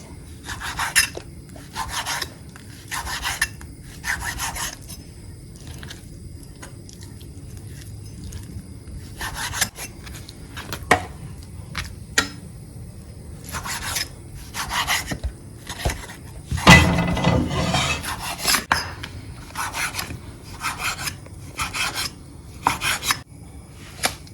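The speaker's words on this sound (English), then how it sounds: "We'll go ahead and cut our meat into strips." Knife slicing pork into strips on a cutting board for a stir fry, a series of short rasping strokes in bursts with pauses, close and moderately loud, with one heavier scraping burst partway through.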